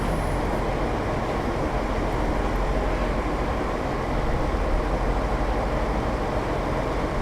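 A BR642 diesel railcar in Train Sim World 5 produces a steady, even rumble of engine and running noise, continuous and moderately loud with no voices over it.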